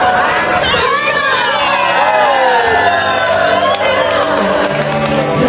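Loud, continuous crowd cheering and excited chatter with children shouting and whoops at a community prize-giving event in Indonesia, a dense, steady roar of voices throughout.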